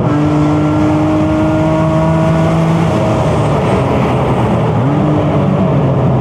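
A BMW E46 M3 on a slippery race track, its engine droning steadily and loud with sustained harmonic tones, then the pitch drops and climbs again around a gear change near the end.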